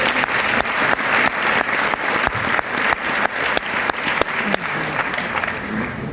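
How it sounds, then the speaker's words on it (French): An audience at a talk on e-commerce gives a sustained round of applause, dense and steady clapping filling the room and tapering slightly toward the end. "Applaudissons pour lui s'il vous plaît."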